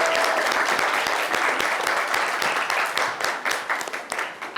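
Audience applause in a French television studio as a participant walks onto the set, dense steady clapping that thins into separate claps toward the end.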